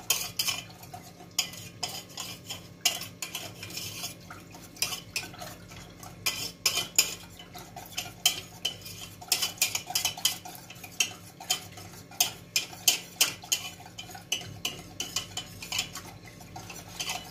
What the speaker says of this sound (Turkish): Nişastamızı katıyoruz arkadaşlar. Biraz karıştırıyoruz iyice eriyene kadar arkadaşlar.